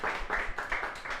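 Audience clapping for a game show host at a live show, a short burst of irregular, fairly close hand claps in quick bunches with no talk.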